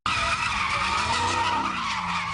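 Car tires screech and skid continuously at a street takeover in South LA, a loud sustained squeal with engine roar beneath, close and unbroken for the whole stretch.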